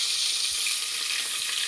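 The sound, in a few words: onions frying in a pan for chicken biryani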